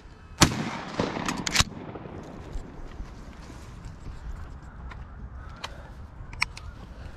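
Shotgun shots fired at clay pigeons outdoors: one loud, sharp blast opens, followed by a few quieter cracks and thuds over steady background noise, with no talk.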